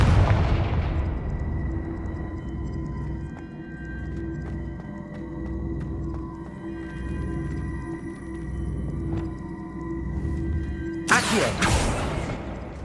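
Confringo blasting spell in the Hogwarts Legacy video game: a deep rumbling boom that decays over several seconds into a low hum, with a sharp bright burst near the end.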